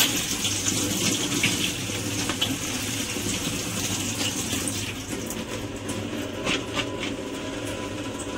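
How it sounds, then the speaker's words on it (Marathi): Green chillies washed under a steady stream of running tap water, a continuous close gushing splash with slight shifts as the chillies are rubbed under the flow. "आता मी मिरची स्वच्छ धुवून घेत आहे"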